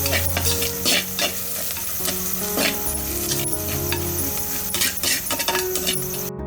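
Garlic, turmeric, salt and Kolhapuri chutney get stirred in a hot pan, a loud, close sizzle broken by repeated metallic scrapes and clinks of the spoon against the pan.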